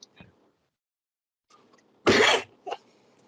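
A single short, sharp cough close to the microphone, followed by a smaller sound a moment later, otherwise near silence.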